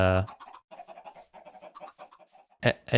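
Minecraft chickens cluck in a run of short, soft, choppy calls, with a louder burst near the end and no clear speech.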